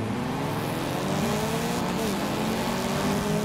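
An all-black Datsun 510 races in a video game, its engine a loud, continuous drone with smooth pitch sweeps as it revs and shifts, under a constant roar of road noise.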